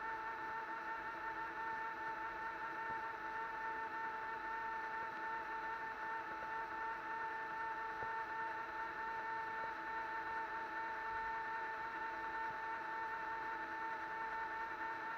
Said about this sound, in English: It's actually opening and closing the valve, and you can hear the motor there.